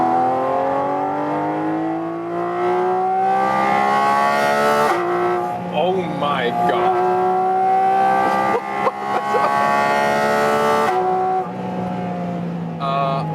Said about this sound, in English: And since we have this special air intake, this creates so much sound actually.